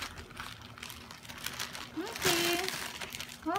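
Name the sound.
plastic packaging crinkling as it is opened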